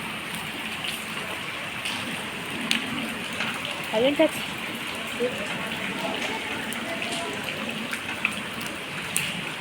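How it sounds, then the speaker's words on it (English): Heavy rain falls steadily in a mountain area, a dense, constant hiss with scattered drips and splashes, while a person talks quietly over it. "Now here there's much rain going on."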